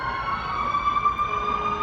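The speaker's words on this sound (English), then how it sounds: "Oh yeah, we got an ambulance." Ambulance siren on the Las Vegas Strip at night, heard from a high vantage point: a steady wailing tone carrying from below, fairly distant but clear over faint city hum.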